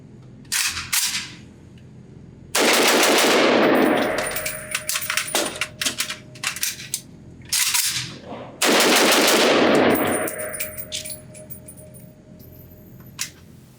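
A Rifle Dynamics RD 704 AK pistol fires two loud, rapid strings of shots outdoors, separated by clicks and clatter of a quick tactical magazine change, with sharp single shots trailing off afterward.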